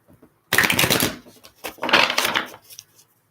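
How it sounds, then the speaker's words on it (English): Two quick bursts of tarot cards being shuffled, crisp riffling close by with a short pause between them. "Let's do another shuffle here."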